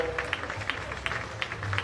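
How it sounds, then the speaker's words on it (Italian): Soft, distant applause from spectators at the opening ceremony of the Italian Under 23 national finals in Valdagno, with irregular claps over a low background hum and faint voices. "un caloroso applauso finale a tutti gli atleti in pista"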